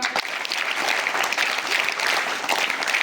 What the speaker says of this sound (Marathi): वा वा, जोरदार टाळ्या.